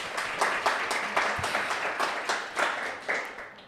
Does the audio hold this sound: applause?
yes